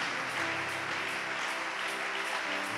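A church congregation applauding to acclaim Jesus during a sermon, dense continuous clapping from many hands at steady loudness, with a low hum of voices and faint tonal music underneath.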